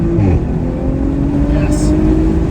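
An Audi RS5 engine pulls hard under heavy acceleration, its steady drone holding loud and near from start to finish, with a voice speaking over it.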